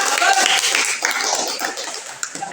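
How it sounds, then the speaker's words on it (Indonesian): A class of students applauding group A, a dense burst of many hands clapping close by, steady at first and thinning toward the end. "tepuk tangan untuk kelompok A"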